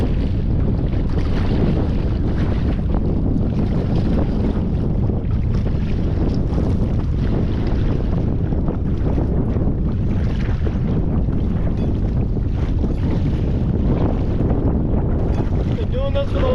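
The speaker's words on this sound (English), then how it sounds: "it's pretty choppy. So, and it's windy too." Strong wind roars steadily across the microphone while kayaking on choppy water, a loud, constant buffeting rush with water splashing underneath and no clear pauses throughout.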